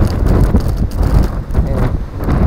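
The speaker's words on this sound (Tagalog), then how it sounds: "lakas ng hangin" Strong wind gusts during a snowstorm road trip, loud rushing and buffeting against the microphone in uneven surges, with a faint vehicle rumble underneath.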